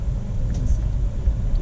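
A 2020 Kia Sportage with a 1.6 liter turbo petrol engine and all-wheel drive rumbles low and steady from inside the cabin while driving, with road noise and no distinct revving.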